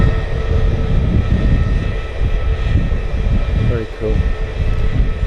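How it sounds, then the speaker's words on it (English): Spanish airline Airbus A320neo jet taking off from Manchester Airport runway 05L, a loud continuous low engine roar with a steady whine above it, while a voice speaks briefly near the end. "Spanish airline, A320neo, going back to Madrid"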